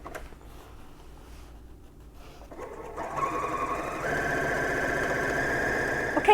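A serger sewing machine stitching quilt blocks together whirs up from a soft hum into a steady, fast mechanical stitching drone, running continuously and close.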